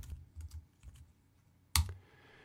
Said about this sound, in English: we can type in that time code